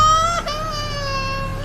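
A baby cries in a strange, drawn-out wailing tone as a sound effect in an animated Hindi story, one continuous loud cry with a brief dip near the start and no talking.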